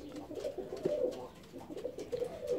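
Pigeons coo softly in repeated low phrases near a feeding table, several calls overlapping at close range.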